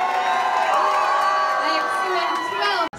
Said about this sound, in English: a mighty cheer for Her Majesty the